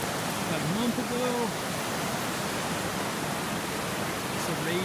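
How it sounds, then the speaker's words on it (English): Loud rushing water from a raging river fills the scene with a steady, dense roar, while a voice speaks briefly near the start over the constant flow. "It's a raging river."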